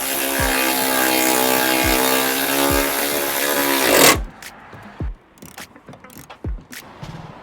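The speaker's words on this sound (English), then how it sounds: "I'll just put some pressure and tighten up all the bolts" Ratchet tightening bolts on a Honda Civic Type R FK8 wing, a loud whirring buzz with sharp periodic knocks for about four seconds, then scattered lighter clicks and taps nearby.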